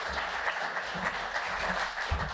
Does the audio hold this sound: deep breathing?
no